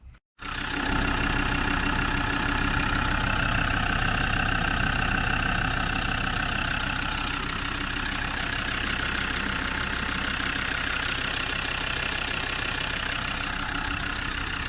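A Massey Ferguson 3505 tractor engine starts and settles into a steady, loud idle, chugging evenly and close by for the rest of the stretch.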